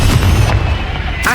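A Confringo blasting spell goes off in Hogwarts Legacy, a loud, close, booming burst with a rumbling low end that carries through the whole short moment and then flares again near the end.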